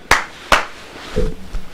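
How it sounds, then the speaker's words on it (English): A man claps his hands twice, sharp and close, followed by a few softer low knocks and a murmuring voice. "He's clapping."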